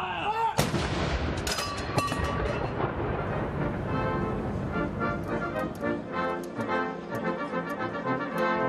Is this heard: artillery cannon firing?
yes